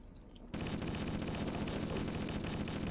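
Gunfire from a weapon in the video game Halo bursts in after a brief quiet moment, then runs as loud, rapid, continuous automatic fire to the end.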